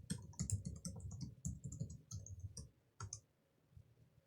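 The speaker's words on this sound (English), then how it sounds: "And then it wants the password. I'll type that in." Password keys tapped on a computer keyboard, a quick irregular run of soft clicks, fairly faint and close, trailing off into a few last taps.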